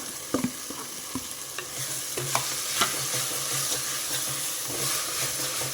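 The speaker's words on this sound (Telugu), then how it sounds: "ఈ ఆకుకూర వేగిపోయింది, కొత్తిమీర వేసేస్తున్నా." Leafy greens pulao with coriander frying in a pan, a steady sizzle with light stirring scrapes and occasional clinks of a spoon, close and continuous without talk.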